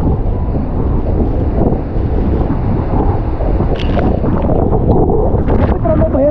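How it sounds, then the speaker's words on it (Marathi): Nanemachi waterfall in the Sahyadri hills pours down in a steady, loud broadband roar, with wind buffeting the microphone throughout and a few brief higher splashes near the end. "बघा कसं पाणी पडतंय"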